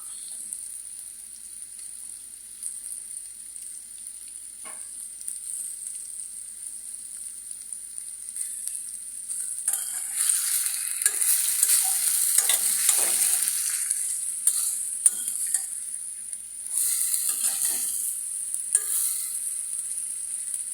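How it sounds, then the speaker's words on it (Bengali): Tengra fish sautés in hot oil in a pan for a potato and tomato curry, a thin, steady high sizzle that grows busier and louder midway with stirring scrapes and spatters, heard alone without talk. "মাছটাকে ভালো মতো কষাতে হবে"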